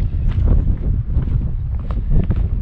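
Hot wind in Canyonlands National Park gusts against the microphone with loud, rumbling low-frequency noise that rises and falls continuously, with no voices.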